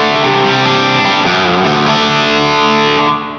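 Electric guitar played through a Two Notes OPUS amp simulator with plate reverb, a loud sustained distorted chord that rings out and fades at the end.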